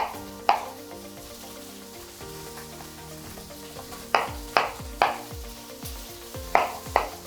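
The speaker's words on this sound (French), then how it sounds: "Qu'on coupe en deux, puis encore en deux. Et après, en morceaux irréguliers comme ça." Several sharp knife chops through butternut squash against a board, scattered irregularly with pauses between, close and clear with no talking.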